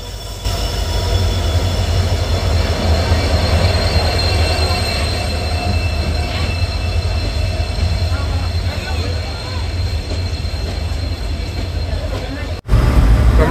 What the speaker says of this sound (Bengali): আমরা ট্রেনে উঠে গেছি